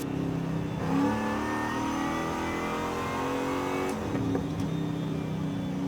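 A muscle car engine with a supercharger revs loudly in Forza Horizon 5, a steady strained drone with shifting tones, a couple of brief pitch changes and a short blip near the end.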